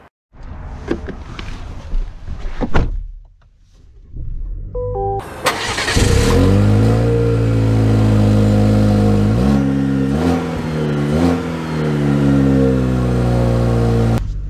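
A 2024 GMC Canyon two-wheel-drive pickup starts up after a quiet moment, then pulls away with a steady, loud engine drone that rises and steps through gear changes, close by and with no talk.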